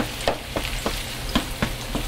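Tomatoes sizzling in a hot pan as they are cooked, a steady close frying crackle with soft stirring clicks and pops recurring every few tenths of a second, no voices.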